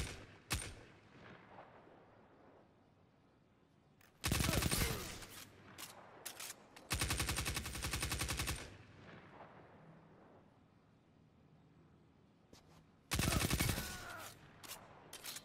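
Rapid SMG fire in Destiny 2 comes in several loud bursts of fast automatic shots separated by quieter stretches, with sharp single impacts and game effects between them.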